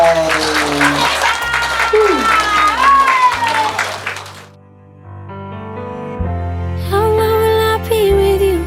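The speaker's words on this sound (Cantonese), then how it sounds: "我哋俾啲掌聲，我哋新任嘅劉生劉太" Wedding guests applaud the newly married couple, a loud burst of clapping and cheering over background music that fades, then resumes more lightly as the music carries on.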